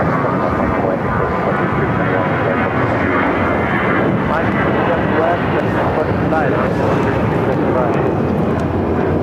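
An American airliner takes off from runway 17 left at Phoenix Sky Harbor airport, its engines roaring loud and steady throughout with a broad rumbling wash.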